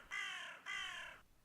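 A crow gives two loud, harsh caws in quick succession, each about half a second long, with no other sound around them.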